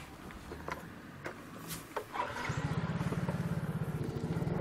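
A motorcycle engine starts up and settles into a steady, pulsing putter for the second half, close by, after a few soft clicks and knocks.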